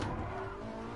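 A race car slides through a corner in Gran Turismo Sport, giving a short burst of steady engine drone mixed with tire scrubbing, close and moderately loud, with no voices.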